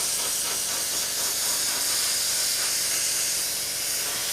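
Airbrush or spray can misting paint over the tail wheel area of a Tamiya 1/32 Spitfire model, a steady close hiss that runs unbroken and evenly loud throughout.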